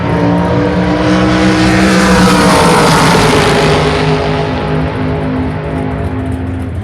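A drag racing dragster engine roars loudly and continuously, a harsh, heavy drone that swells and then eases slightly as the car runs, close and dominating with no voices.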